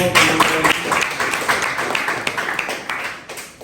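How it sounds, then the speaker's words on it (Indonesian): Applause for a classroom group presentation, a burst of many hands clapping close by that gradually thins and fades over a few seconds. "Beri tepuk tangan untuk"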